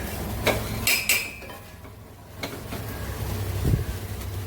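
Metal pots and utensils clink and clatter as cooked food is moved into another cooking vessel in a home kitchen, a few sharp knocks close by over a low background hum.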